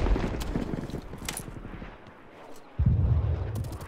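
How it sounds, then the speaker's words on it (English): Gunfire in the Call of Duty Cold War video game: close bursts of rapid shots, pausing briefly, then resuming loudly with no talk. "I just really like the gun sounds. I like the sounds that they have in the game."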